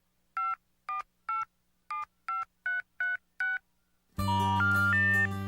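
A phone number gets dialed on a keypad: eight crisp touch-tone beeps, evenly spaced and close, followed abruptly by a loud burst of music.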